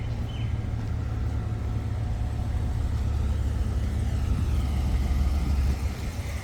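A Cadillac Escalade engine runs at a steady idle, a deep, continuous low rumble that stays even throughout, close by with no voices.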